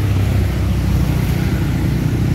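A large Adi Prima bus passes close by on a road in Ciawi, its engine giving a steady, loud low rumble that holds evenly throughout with no voices.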